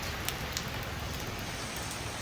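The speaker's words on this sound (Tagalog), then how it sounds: "ulan ng ulan" Heavy rain pours down in a dense, constant hiss, filling the scene evenly with a few sharper drips on a surface near the start.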